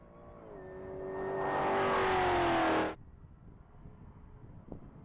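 A black 2021 Jeep Trackhawk with a Hennessy 1,000-horsepower supercharged motor roars past at a top-speed mile event, its engine note and supercharger whine rising loudly before cutting off abruptly, leaving quiet ambience.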